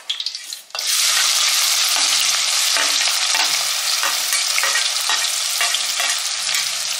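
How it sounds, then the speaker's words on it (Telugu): Cumin seeds and chopped onions hit hot oil in a pan, bursting into a loud, steady sizzle with repeated stirring scrapes throughout; a few clinks come just before the frying starts. "కొంచెం జీలకర్ర, కట్ చేసుకున్న ఉల్లిపాయలు వేస్తున్నాయి."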